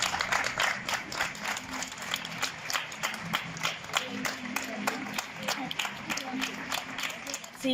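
Neighbours and doctors clapping together in a street during a lockdown evening, a steady dense crowd applause with sharp individual claps running throughout, fairly close.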